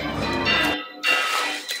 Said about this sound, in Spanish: Ahí suenan las campanas, los domingos de resurrección.